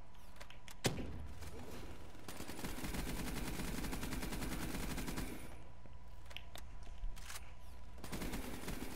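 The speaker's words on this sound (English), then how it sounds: "Throw a grenade and keep shooting them." Sustained automatic gunfire from a Black Ops 3 firefight, dense rapid bursts dominating the middle seconds with a heavy thud early on, plus scattered sharper shots near the end.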